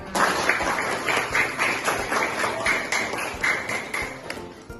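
Students clap together in a classroom, a dense patter of hand claps that starts abruptly and holds steady for several seconds, with no talking over it.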